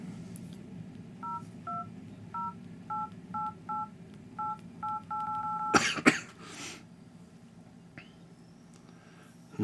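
Keypad tones from a Samsung Nexus S phone dialer: about a dozen short, even beeps in a quick irregular run, close and clear, then a few clicks and a cough-like burst with a faint voice near the end.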